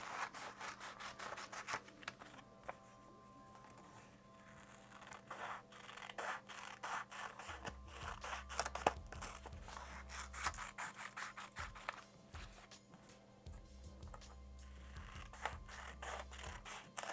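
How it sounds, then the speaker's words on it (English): Scissors snip through paper, cutting a sheet into four pieces for a folk-style collage, with steady crisp scratchy cuts and rustles close by over soft background music. "So I think I'll cut my paper into 4."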